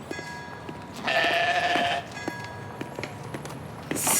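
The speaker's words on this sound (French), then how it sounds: "C'est quoi ce mouton, papa?" A sheep bleats once loudly and close for about a second, surrounded by quieter scattered clatter and thumps in an indoor scene.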